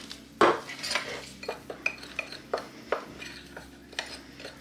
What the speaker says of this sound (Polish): Ja sobie zamieszam te 2.